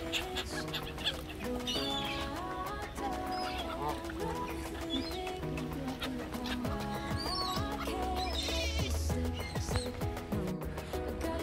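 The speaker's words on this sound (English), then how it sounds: "so now we are feeding the birds" Chickens and other fowl cluck and chatter busily while being fed at a countryside attraction, a dense overlapping chorus of close birds with occasional human voices mixed in.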